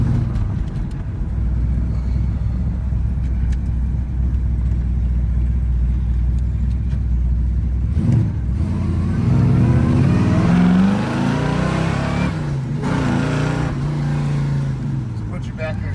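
A 1979 Chevrolet C-10 pickup's built 454ci fuel-injected V8 with a 4-speed rumbles and revs up as it accelerates, loud and close from inside the cab, with people talking over it.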